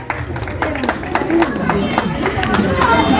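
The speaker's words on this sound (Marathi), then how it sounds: "स्वागत करतात आहे सगळ्यांनी जोरात टाळ्या उजावून द्या" A crowd claps at a puja welcome gathering held by a women's group, with scattered, uneven hand claps close by under loud talk over a microphone.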